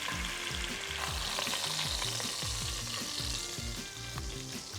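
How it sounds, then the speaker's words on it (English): Pork searing in a hot pan for pulled pork adobo, a loud continuous close sizzle and crackle of frying meat with no voices. "I'm gonna grab a cloth and flip my pork around"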